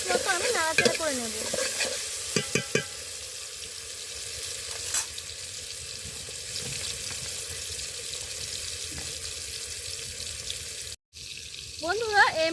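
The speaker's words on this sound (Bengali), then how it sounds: "আমি নাড়াচাড়া করে নেব।" Chicken fries in a pan and is stirred, a continuous loud sizzle with scraping spoon strokes near the start and end, a brief dropout near the end, and no one talking.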